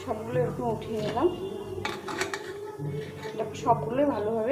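A metal utensil clinks and scrapes against a pan while lifting reddish-fried breakfast snacks out of hot oil, a few short clatters heard under steady talking.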